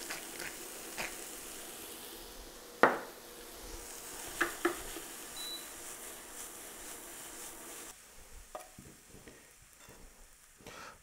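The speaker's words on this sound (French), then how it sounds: "on a mis une petite noisette de beurre pour faire revenir les brocolis dedans" Broccoli fries in a small knob of butter, a soft continuous sizzle with a few sharp clinks and scrapes of stirring against the pan.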